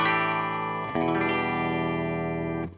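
A Fender Kurt Cobain Jag-Stang electric guitar with its pickups switched out of phase rings out as a loud, thin, bright strummed chord, restruck once and then cut off, with no talking.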